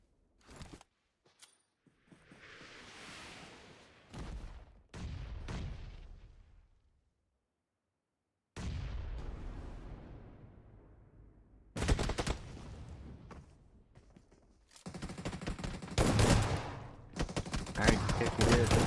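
Rifle fire from an SKS in the mobile battle royale PUBG Mobile, a scrimmage match: several sharp separate shots and bursts across the stretch, with short gaps, one silent pause and louder clustered firing toward the end.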